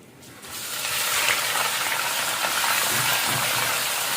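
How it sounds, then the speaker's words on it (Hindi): Mutton, about 1.5 kg, frying in the oil left from frying onions for aloo gosht, a steady loud broadband sizzle that swells in after a quiet start and holds with no talk. "उसी के अंदर हमने ये गोश्त डाल दिया है। अब इसको हम फ्राई कर रहे हैं"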